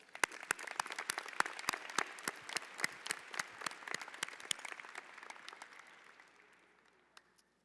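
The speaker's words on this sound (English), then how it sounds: "Please give yourselves a big round of applause." Graduation audience at a New Tech West 2023 ceremony clapping for the graduates, a sustained wash of dense hand claps with sharp individual claps standing out, gradually thinning and fading out over the last couple of seconds.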